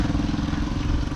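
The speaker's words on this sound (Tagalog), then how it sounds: "Kaya pala ng motor mo eh." A Rusi motorcycle engine runs steadily up close, a continuous low, rough mechanical drone with clattery texture and no gaps, heard during a two-up ride on a slippery road to a viewpoint.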